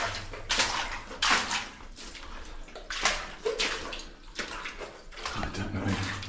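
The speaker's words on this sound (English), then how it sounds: "some of this gluggy walking through the water noise" Footsteps wading through water inside a flooded tunnel of an old New Zealand goldmine, Talisman Level 6 at Karangahake Gorge, giving repeated gluggy sloshing splashes in an uneven walking rhythm, fairly close and alone.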